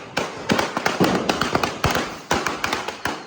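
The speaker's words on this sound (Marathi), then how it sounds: "आणि फटाक्यांची आतिषबाजी." Firecrackers and fireworks burst in rapid, uneven succession at a Bahiri god immersion festival, with sharp, loud cracks and bangs crowding close together and no voices.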